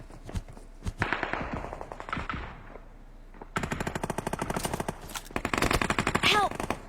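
Rapid automatic gunfire from a shooting video game comes in loud, dense bursts with short pauses between them, with players talking over it.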